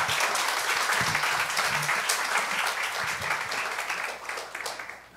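Church congregation applauding to welcome a missionary to the front, steady clapping throughout that tapers off at the end.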